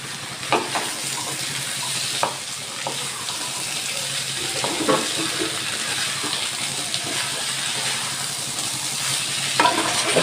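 Chicken with fried potato pieces and green peas being sautéed in a pan for ghugni, a continuous loud sizzle with frequent scraping stirs and clinks of a spatula throughout.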